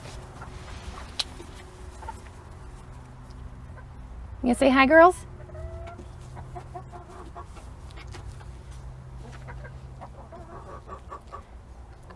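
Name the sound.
chickens clucking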